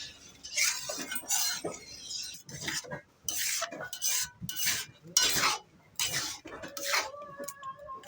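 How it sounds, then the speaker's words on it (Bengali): Semolina cooking with water is stirred hard in a pan, with loud clattering, scraping strokes of a metal utensil in uneven bursts and short pauses, close and with no talking. "সুন্দর করে নেড়ে চেড়ে নিব, যেন সুজির মধ্যে দলা দলা না থাকে"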